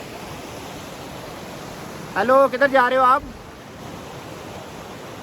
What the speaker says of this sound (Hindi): और जगह जगह पे पानी चल रहा है, जैसे कि मेरे बैक साइड पे।